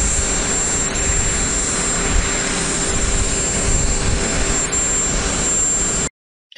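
Airplane jet engine, a loud steady roar with a thin high whine running throughout, close and continuous for about six seconds before cutting off abruptly, no talk.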